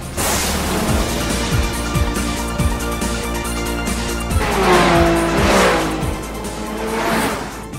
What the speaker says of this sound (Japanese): たったの450馬力でこのランエボを300キロに持っていく。